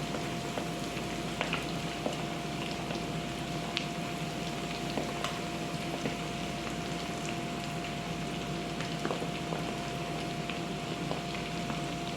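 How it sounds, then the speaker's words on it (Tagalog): Shrimp frying in hot oil for a home-cooked dinner, giving a steady, even sizzle with scattered small pops and crackles throughout, close and continuous with no talking. "Shrimp naman tayo guys, ipiprito na natin."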